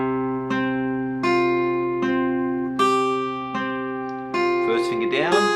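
Guitar picking the closing two bars of a song, a series of ringing plucked notes and chords over a sustained low tone, each attack clear and decaying, ending in a brighter strummed flourish; no talking.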